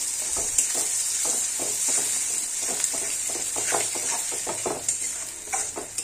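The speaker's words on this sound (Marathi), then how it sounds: "ही जी अंड फोडून घेतलेली ना, हे याच्यात टाकूया आणि याला छान 2 मिनिटं हलवूया।" Beaten eggs stirred through hot tempering in a pan for egg bhurji, a constant close sizzle with repeated scraping strokes of a spoon against the metal, no voices.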